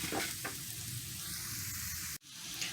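Shrimp sizzling in a pan over medium heat for Cajun shrimp pasta, a dense continuous frying hiss close up, broken once by a brief sharp dropout, with no talking.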